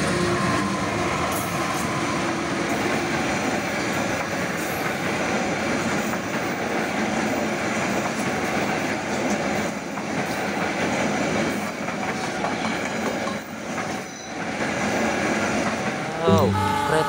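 A CC206 locomotive hauls a long train of wagons past steadily for a long stretch, wheels clattering and rumbling continuously, with a brief squeal near the end.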